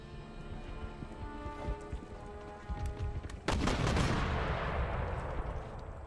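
Musket volleys crackle across a battlefield in Empire: Total War. A dense burst of overlapping shots erupts midway over steady background battle din, then rolls on as sustained fire, with no talk.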